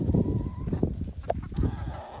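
Backyard rooster and hens cluck softly at snack time while being fed grapes, a few short low clucks and calls close by over quiet background rustle.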